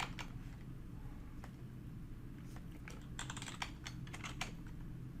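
Someone types a Linux command on a computer keyboard, with clusters of close, crisp key clicks that grow denser toward the end over a steady low room hum.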